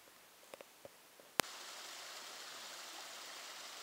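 Steady rushing water of a waterfall along a forest nature trail at Worlds End State Park, a continuous broadband roar that sets in abruptly after a few faint clicks and footsteps, holding even and moderately loud with no voices.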